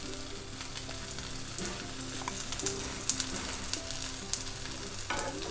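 Poha thalipith fries in oil in a pan on medium heat, giving a steady close sizzle with occasional crackles and small pops, with no talking.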